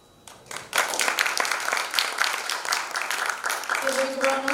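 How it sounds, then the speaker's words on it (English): Audience applauding panelists at the close of a business forum session, a dense, sustained burst of many hands clapping that starts abruptly and continues steadily, with a voice beginning to speak over it near the end. "Give a big round of applause, ladies and gentlemen."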